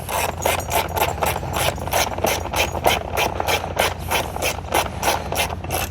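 Rapid, even clicking of a ratchet wrench with a 5/16 socket backing out bolts on the pull-start cover of a Craftsman lawn mower, steady and close for several seconds with no talk.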